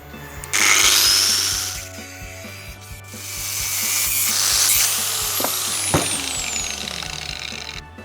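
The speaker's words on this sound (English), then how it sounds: "So we will cut the shaft now and weld this up." A power tool grinds and cuts through the shaft of a vintage 1900s Drummond lathe. Two long, loud passes of abrasive whine are heard close by, with metallic rubbing and a low steady hum underneath.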